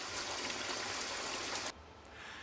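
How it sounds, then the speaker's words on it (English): Water from a garden hose gushes steadily while flushing out a car engine block, a loud continuous hissing rush that drops abruptly to a quieter trickle near the end. "it flushes out the engine block."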